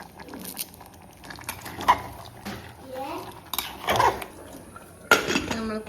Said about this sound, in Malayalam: നമ്മൾ കുക്കർ അടച്ചു.